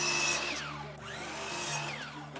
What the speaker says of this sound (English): I'm going to start with a fence picket and cut 2 pieces to 12 inches.